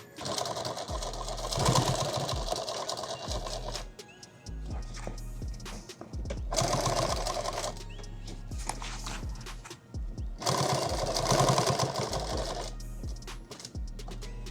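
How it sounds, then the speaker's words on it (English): An industrial sewing machine stitches a heavy war bag for eight magazines, running zigzag and straight lines in three loud bursts of rapid mechanical chatter with brief pauses between runs. "That was 3 lines of stitching, zigzag over, 3 more lines of stitching, holds this attachment in place"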